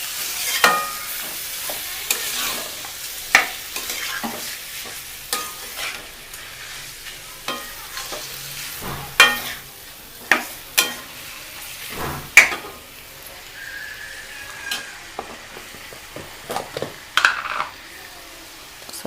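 Chicken curry with tamarind leaves being stirred in a pan after salt goes in, a gentle sizzle underneath while a spoon scrapes and taps the metal in irregular strokes, close and moderately loud, with no voices.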